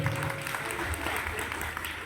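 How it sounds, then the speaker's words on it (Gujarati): A crowd claps at a Rath Yatra gathering for the Ashadhi Bij festival in Ranavav, steady dense applause filling the moment with a voice faintly underneath. "એકવાર જોરદાર તાળીથી દિનેશભાઈને વધાવું."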